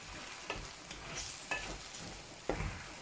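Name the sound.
butter melting and sizzling in a pan with mushrooms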